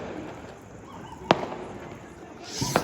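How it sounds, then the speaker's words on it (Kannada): Firecrackers bursting outdoors in the Bijapur area during an RCB win celebration: two sharp, distant cracks ring out about a second and a half apart over a steady low background hum. "ಪಟಾಕಿ ಸ್ಟಾರ್ಟ್ ಆಯ್ತು ನಮ್ಮ ಕಡೆ ಎಲ್ಲ."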